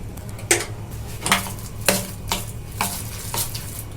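Spices are stirred into a potato and raw chickpea curry, each stroke a sharp, close scrape of the spoon across the pan, repeating about every half second over a low frying hiss.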